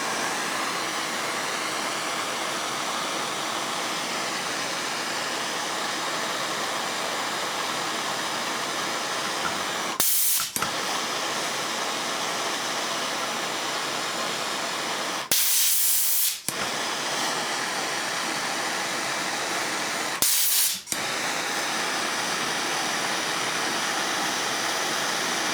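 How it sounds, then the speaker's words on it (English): Compressed air hisses in a strong, steady blast onto a 96 Mauser small ring rifle, pausing briefly three times before resuming. "Now the next thing I'm going to do is use compressed air."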